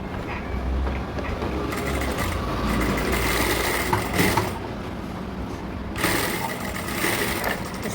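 A sewing machine stitches canvas onto an elastic belt in a steady, fast mechanical whirring that runs close and continuous, with brief pauses and shifts in pace.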